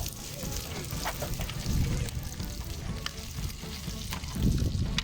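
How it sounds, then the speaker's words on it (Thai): Chili and garlic stir-fry in hot oil for a Thai krapow with fresh shellfish, a loud, busy sizzle with bursts of tossing and scraping, swelling twice, while someone talks at times. "ครับตอนนี้เป็นขั้นตอนของการผัดกะเพรานะครับ"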